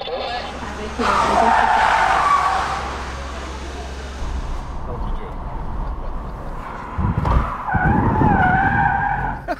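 A Renault Zoe skids on a track under violent handbrake use, with loud tire squeal and scrubbing rising over engine and road noise, in several bursts close to the microphone.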